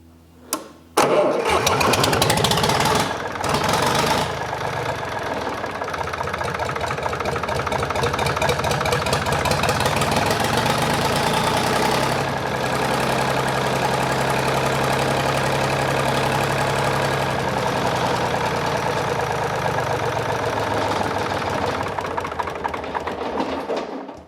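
A Lister ST3 three-cylinder diesel engine cranks and catches, then runs loud and steady with a fast mechanical clatter, its pitch shifting as the throttle opens and settles before cutting out at the end.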